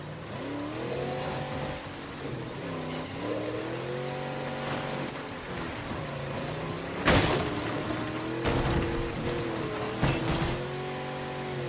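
A car in the video game State of Decay 2 drives cross-country off the road. Its engine drones and revs up and down, with bumps and jolts as it lurches over rough ground, all loud and continuous.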